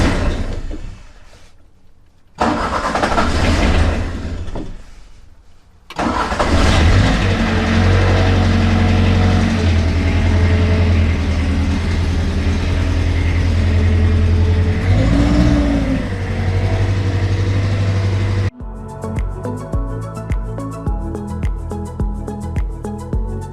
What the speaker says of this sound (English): It should definitely be able to keep this little engine running.